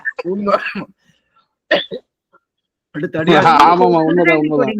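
A person coughs a few times, short harsh bursts separated by pauses, then starts talking.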